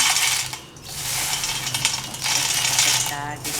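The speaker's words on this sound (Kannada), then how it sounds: "ಸೌಂಡ್ದಿಂದನೇ ಗೊತ್ತಾಗ ಕ್ರಿಸ್ಪಿ ಟೇಸ್ಟಿಯಾಗಿರೋಂಥ ಉಪ್ಪಿನ ಶೇಂಗಾ ರೆಡಿ ಆಗಿರೋ" Crispy salted peanuts, boiled for five minutes and then roasted, rattle and clatter loudly in a container in quick hard bursts with brief pauses, close up and without speech.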